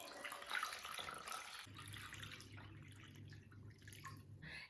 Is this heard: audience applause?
no